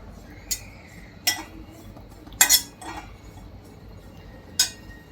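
A metal spoon or ladle clinks sharply against a kadhai on a gas stove while grated coconut is added, four or five separate knocks spread apart over quiet.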